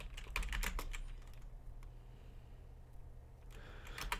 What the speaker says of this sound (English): whatever you call this that I am typing now.